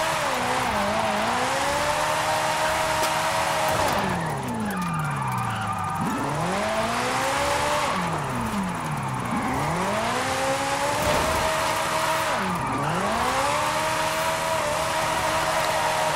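A 1962 Ferrari 250 GT Berlinetta Lusso with an all-wheel-drive drift tune in a racing video game, engine revving and swooping in pitch while tires squeal through repeated long drifts.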